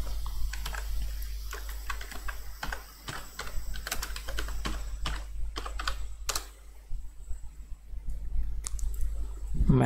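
Fingers tapping out a search on a computer keyboard, a close run of quick, uneven key clicks with brief pauses and a steady low hum underneath.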